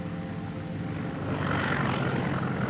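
A small airplane landing on a cold, windy runway, its propeller engine droning steadily and loud without a break, swelling slightly partway through, with no voices.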